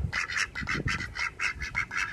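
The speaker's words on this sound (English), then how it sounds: "Okay, the ducks." Ducks quacking in a yard in a rapid, steady series of loud nasal calls, close by with faint background noise and no talk.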